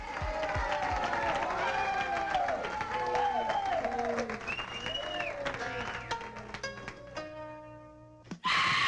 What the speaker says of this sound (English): Give a big round of applause, if you will, again.